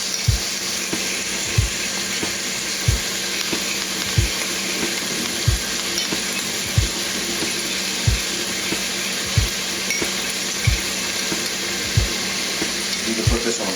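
A regular metal spoon stirs garlic oil for a garlic steak dish, giving soft, steady knocks about every second and a half over a faint kitchen hiss.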